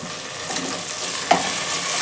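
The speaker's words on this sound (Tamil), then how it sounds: "இப்போ தக்காளி சேர்க்குறேன்." Tomatoes go into a hot frying pan of vegetable pulao, giving a steady close sizzle with soft stirring scrapes and a brief louder clatter partway through.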